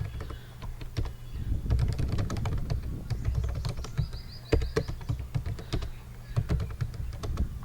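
Rapid keystrokes on a computer keyboard while writing C++ code, close and clear, in uneven bursts of clicks with short pauses between runs of typing.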